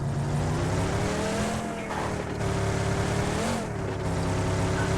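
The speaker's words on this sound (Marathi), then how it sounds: "ही गाडी कुठली? अच्छा तूच काढली गाडी." A car in the BGMI battle royale game, on the Erangel map, drives with a continuous engine drone whose pitch dips and rises twice as it shifts or turns. The engine sits close and steady, with no talk over it.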